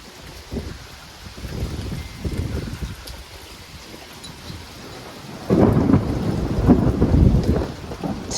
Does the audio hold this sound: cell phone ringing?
no